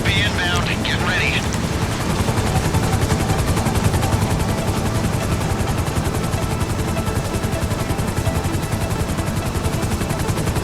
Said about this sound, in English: Chopper should be inbound.